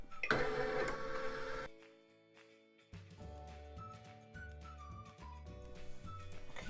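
An embroidery machine stitching backing fabric onto an in-the-hoop plush toy: a loud burst of rapid mechanical whirring, a brief pause, then steady rhythmic needle thumping and clatter with a recurring electronic whine, close by and with no voices.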